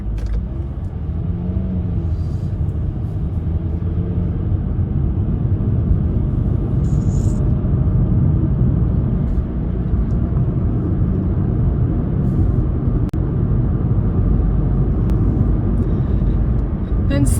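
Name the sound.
car driving on road with traffic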